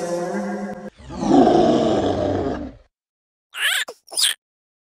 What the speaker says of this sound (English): there can often be heard a great echoing roar.